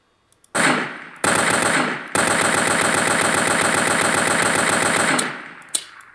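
Rapid video-game gunfire aimed at a palm tree: sustained loud automatic bursts, a brief pause after the opening volley, then a long unbroken stream before it stops and a final single shot rings out.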